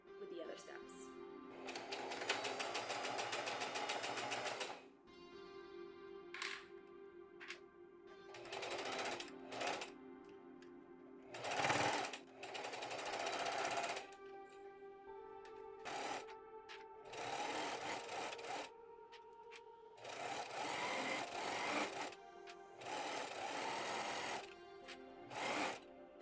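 A sewing machine stitches dress fabric pieces together for a summer dress in loud, steady whirring bursts of several seconds each, with short pauses between runs and faint talk at times.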